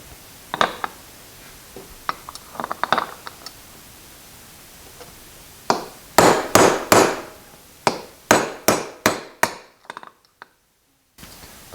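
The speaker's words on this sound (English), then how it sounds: "tap those things down in there with the hammer" A hammer taps parts into a Milwaukee handheld band saw, starting with scattered light knocks, then a run of sharp, loud, evenly spaced metallic blows close up, each ringing briefly.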